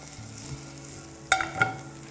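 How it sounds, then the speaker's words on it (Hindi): Garlic and curry leaves frying in oil and tossed in a pan, a quiet steady sizzle followed by two clear metallic clinks of the pan or spoon near the end. "और इसके अंदर अब हम डालेंगे curry leaves. Toss them in again."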